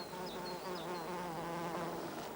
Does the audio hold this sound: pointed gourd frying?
no